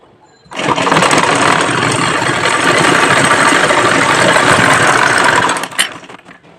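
An electric sewing machine runs continuously for about five seconds while stitching salwar pieces together, a loud close whirring drone that starts abruptly and stops with a brief clunk.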